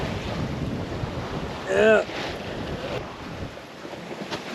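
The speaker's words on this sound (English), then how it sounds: "the sails are up and we're cruising" A sailboat cruises under sail on calm water, with steady wind rushing over the microphone and waves washing along the hull; a voice speaks briefly near the middle.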